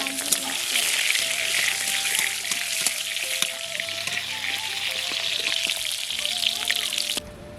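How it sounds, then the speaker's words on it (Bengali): Salted, turmeric-coated pointed gourd (potol) sizzles and crackles steadily in oil in a wok while being stirred, a continuous frying hiss with occasional scraping taps, ending abruptly. "এরপর আমি কড়াইতে ভালো করে নাড়াচাড়া করে ভেজে নেব"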